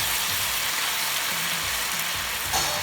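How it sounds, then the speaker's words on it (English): Beef going into a hot pan for beef stroganoff, giving a loud, dense, continuous sizzle that holds steady throughout, heard close with no speech. "On the same pan, I'm going to put my beef."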